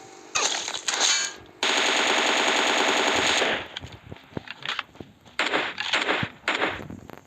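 Gunfire in the video game PUBG comes as loud, rapid automatic bursts, one long sustained burst among shorter ones with brief pauses between them.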